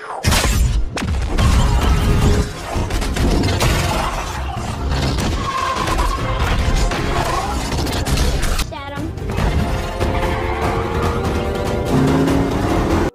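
Car in a film chase scene from The Adam Project, busy and loud, with engine roar, skidding tires, crashes and impacts mixed with score and effects, under a narrating voice.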